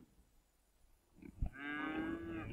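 A cow moos once in a farming district of the city-building game Cities: Skylines, a single drawn-out low call rising after a soft thump, clear and fairly close against a quiet background.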